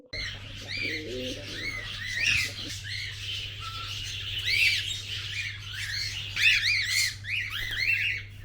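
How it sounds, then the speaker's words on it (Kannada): Caged birds kept at a hill-view resort near Bangalore chirp and squawk in a busy, close chorus of repeated bright calls, with a brief low coo early on over a steady hum. "ಈ ಹಕ್ಕಿಗಳ ಮಧುರ ಪಿಸು ಮಾತು ಕೇಳೋದು ಒಂಥರ ಪೀಸ್ಫುಲ್ ಆಗಿತ್ತು"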